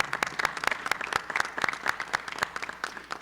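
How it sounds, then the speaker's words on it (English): A small education-event audience claps for the executive board, sparse enough that individual claps stand out in an uneven, moderately close patter that tapers off near the end. "we give them a quick round of applause just for their great effort"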